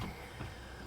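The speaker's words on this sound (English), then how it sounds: "Okay, the back left window works." An electric power window on a first-generation BMW E12 5 Series whirs faintly in a short motor hum inside the car, ending with a small thump.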